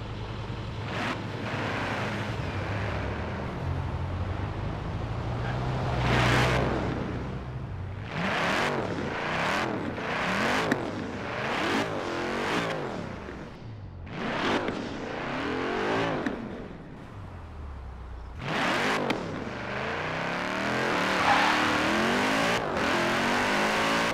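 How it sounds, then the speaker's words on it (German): Car engine in the racing video game Forza Horizon 4, with repeated revving and accelerating passes, sharp rises and drops in pitch, a steady road rush underneath, and no talking. "gebe euch mal den vollen Spielsound, den Motorklang, denn da vorne ist ein Tunnel"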